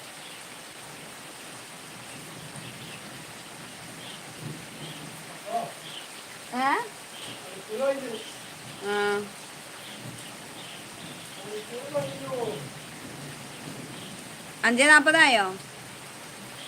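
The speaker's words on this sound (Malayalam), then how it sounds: "മഴ ഇപ്പോഴും ഇപ്പോൾ ഒന്നും നിൽക്കൂല" Steady rain falls throughout as a dense, even hiss, with a few short bursts of voices talking over it.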